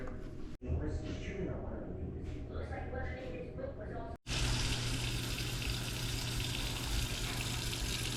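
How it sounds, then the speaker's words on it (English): Raw rice rinsed under a running tap at a kitchen sink for Mexican rice, a steady rushing wash of water that swells louder and fuller in the second half, with a voice speaking over the earlier part. "I'm gonna take the rice. I gotta rinse all that"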